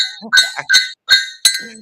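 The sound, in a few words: silver bars clinking together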